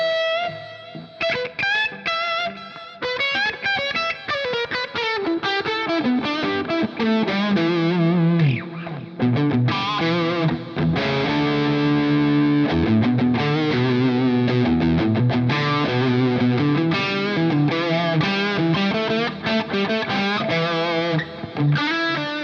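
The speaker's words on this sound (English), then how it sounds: "the orange has some reverb on it, so we can get that reverb and delay" A 1985 Yamaha SPX90 effects unit adds reverb and delay to a played synth or guitar line, the notes trailing and echoing into each other in a continuous, loud, effects-laden passage with no speech.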